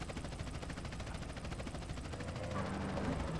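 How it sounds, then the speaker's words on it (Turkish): A helicopter arrives in a video game: steady, dense rotor chop with regular pulsing fills the whole stretch and grows slightly louder toward the end, with faint game noise underneath. "Helikopter geldi."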